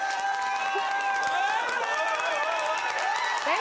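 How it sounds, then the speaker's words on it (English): A television studio audience on a night talk show breaks into steady, dense applause that fills the whole stretch at an even level, with a host's voice briefly over it. "Can I get an applause?"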